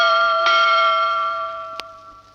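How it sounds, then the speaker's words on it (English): A tugboat's bright bell rings once and hums on with a long, sustained tone, then a second light strike sounds as the ringing fades. "You will know it is time to turn the page when you hear Scuffy's bell ring"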